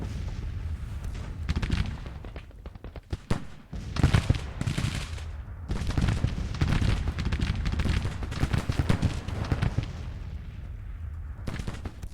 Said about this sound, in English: Just want to shoot that artillery.